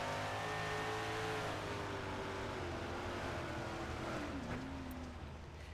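A race car engine in the iRacing game, heard from the onboard camera, holds a loud steady drone as it pulls through the gears. Pitch slides gradually, with no voices over it.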